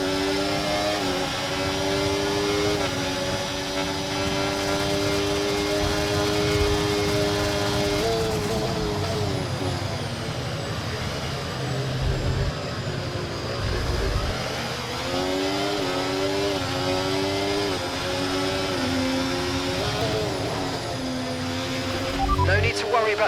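A Formula 1 car engine from the racing game F1 24, pushed hard during an overtake in a career race: a loud, steady, high harmonic whine that dips and climbs in pitch as revs change, with continuous gameplay noise underneath.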